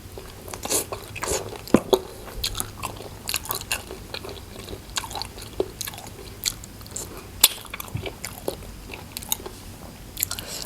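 Someone chews chicken feet close to the microphone, with repeated wet crunches and bone-cracking bites in an irregular rhythm, mostly alone with faint background noise.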